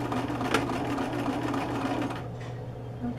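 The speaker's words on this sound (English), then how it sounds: "begin to sew a few strokes and then reverse to knot it and then continue" A sewing machine stitching fabric for a scrunchie, running in a steady continuous mechanical hum with rapid needle chatter, close and alone, for about three seconds.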